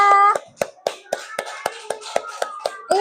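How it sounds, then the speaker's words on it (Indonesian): A classroom group of pupils claps together for one of the student groups, about nine sharp, evenly spaced hand claps following a brief moment of talk at the start. "Beri tepuk tangan untuk kelompok mangga."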